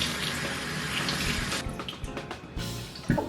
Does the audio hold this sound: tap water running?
yes